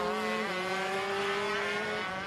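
ROK 125 Limited shifter go-karts with exhaust restrictors racing at Sonoma, a loud high-pitched two-stroke engine whine that holds steady and shifts pitch as the karts scream past, with no voices.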